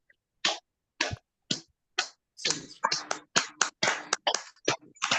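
Online meeting participants clapping to thank a doctor: a few separate, sharp claps spaced apart, then a looser flurry of overlapping hand claps from several unmuted microphones, quiet and thin with silence between early claps.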